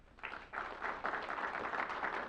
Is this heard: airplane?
no